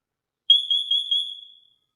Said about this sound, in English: it gives you both verbal warnings for a smoke alarm and for a carbon monoxide alarm